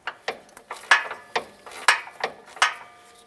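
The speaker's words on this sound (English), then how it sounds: "Now we can make our way over to the driver's side to tighten that hardware." A hand ratchet tightening Watts link track bar hardware on a 2003-2011 Mercury Grand Marquis gives quick bursts of metallic clicks in short, uneven strokes, close and clear with no voices.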